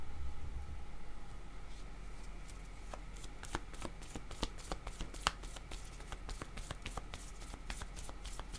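Playing cards are shuffled with a soft riffling, then drawn and laid down in a run of sharp, quiet snaps and flicks, close and alone.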